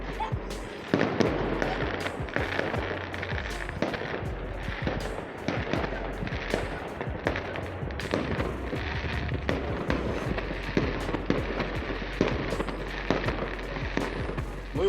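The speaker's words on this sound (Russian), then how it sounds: "Даже был салют небольшой, вот, снимал с балкона" Repeated sharp bangs and crackles of a small fireworks display burst throughout, heard from a balcony, some loud and close, others distant, forming an irregular, continuous barrage with faint voices in the background.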